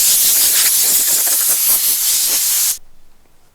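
Compressed air spraying dust off a taxidermy wildlife mount, a loud close continuous hiss that cuts off sharply near the end, leaving near silence.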